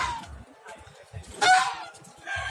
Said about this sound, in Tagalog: Tuwing umaga po, ganyan po ang gawain ko na nagpapakain ako ng gansa